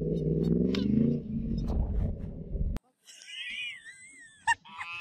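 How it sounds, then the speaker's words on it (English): Geese honk in a series of loud, nasal calls and brassy squawks near the recorder, following a stretch where someone talks over low rumbling. "Oh yes, the beautiful sounds of geese."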